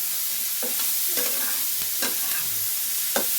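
Cauliflower being stir-fried in a pan on lowered heat, with a steady sizzle under scattered spatula scrapes and stirring clatters at irregular intervals, close and clear, with no talking.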